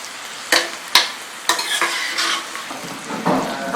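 A spatula scrapes and clacks against a pan while stirring jackfruit stir fry with salt, several sharp knocks in an irregular rhythm over a low sizzle, close and distinct.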